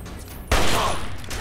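A single loud, close shotgun blast in Fallout 3, a sudden boom that trails into a sustained rumbling decay over low background noise.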